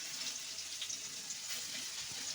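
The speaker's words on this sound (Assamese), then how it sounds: "নহৰুখিনি অকণমান ভালদৰে ফ্ৰাই কৰি লওঁ।" Steady, gentle sizzling of garlic paste frying in hot mustard oil in a wok, a soft continuous crackle at moderate distance with no talking.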